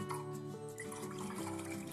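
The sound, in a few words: plain water being poured into a pot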